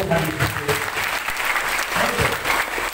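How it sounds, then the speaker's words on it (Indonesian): A church congregation claps loudly and continuously in a dense, sustained burst, with voices mixed into the crowd noise. "Berikan tepuk tangan yang terbaik."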